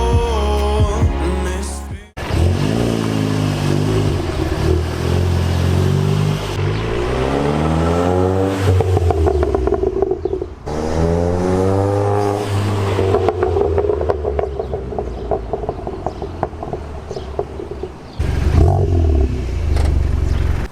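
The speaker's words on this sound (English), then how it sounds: "I don't know if you guys can get the full effect of that exhaust system through the camera" A VW MK7 GTI fitted with a Unitronic catback exhaust revs repeatedly, the engine note climbing and falling in long sweeping pulls with short pauses between, loud and close.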